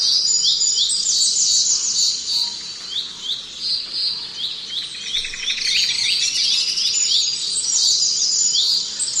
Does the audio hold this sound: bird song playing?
yes